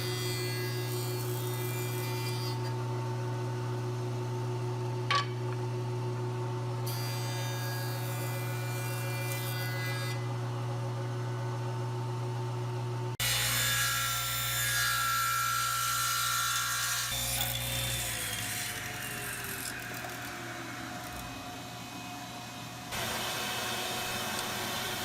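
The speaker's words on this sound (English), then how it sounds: "I've got to joint one edge, and then I'm going to use a table saw to rip it square." Jointer and table saw ripping wood to square an edge, heard as a steady motor hum with sections of harsh, bright cutting noise that rise and fall as boards pass through, no talking.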